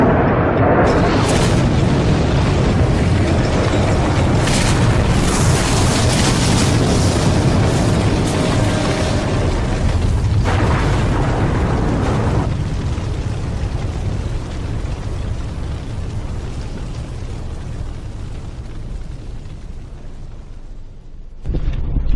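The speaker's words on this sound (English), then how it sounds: "when it hits, it's just a big explosion, and it's just a ball of fire" A bomb explosion erupts into a ball of fire in Vietnam, a long, heavy roaring blast that rumbles and crackles loudly before slowly fading.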